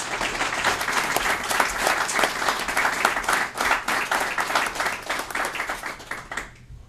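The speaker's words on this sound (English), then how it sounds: "How about a round of applause?" An audience at a town candidate forum in Newbury claps in a sustained round of applause, dense and fairly close, then thinning and fading out near the end.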